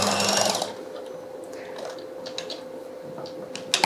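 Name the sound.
sewing machine stitching a trouser hem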